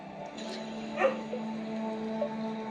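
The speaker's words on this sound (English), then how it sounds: "Let me go let my dog Luna in, and I'll be right back with you" A pet dog named Luna barks and yips a few times indoors, short sharp calls standing out over a steady electrical hum and room tone in a jewelry workshop where a wax ring is being handcrafted.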